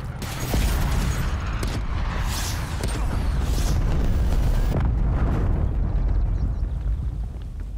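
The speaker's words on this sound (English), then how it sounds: "Cruise missile inbound." Cruise missile strike in the Call of Duty: Black Ops Cold War online multiplayer game, a sustained loud rumbling blast with roaring, wind-like noise that holds steady for several seconds.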